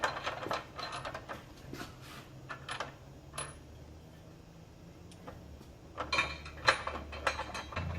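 A bolt is threaded into a nut plate under the belly skid of a Jeep WJ, giving faint scattered metallic clicks, ticks and light scraping that pick up in a brief busier flurry near the end.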